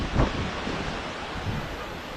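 A waterfall at a hill viewpoint roars as a steady broadband wash, with wind buffeting the microphone and blowing spray making a constant, loud, close rush throughout.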